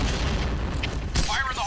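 A grenade goes off in the shooter game PointBlank: a dense, boomy roar fills the whole clip, with a sharper burst about two-thirds of the way through and a voice briefly heard at the end.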